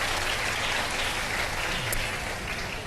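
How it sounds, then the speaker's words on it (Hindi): Studio audience applause on a Pakistani iftar quiz show fills the space with dense, steady clapping from a large crowd, loud and continuous without a break. "अगर आप लोग तैयार हैं तो एक दफा फिर तालियां बजा दें"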